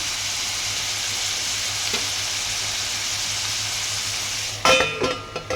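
A vegetable curry cooking in a pan hisses with a steady, moderate sizzle up close, then a louder clatter and scrape near the end as the pot is handled.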